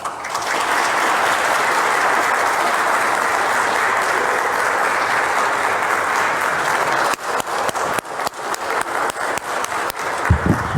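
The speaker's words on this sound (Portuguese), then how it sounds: "Nós é que aplaudimos em nome do povo capixaba" Sustained audience applause at an official ceremony in Espírito Santo, Brazil, holding dense and even before breaking into sparser, individual claps near the end.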